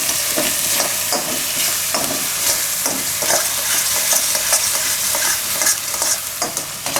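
Ginger, garlic and chili frying with paneer masala in a pan, a spoon stirring and scraping in steady repeated strokes over a constant close, loud sizzle, with no voices.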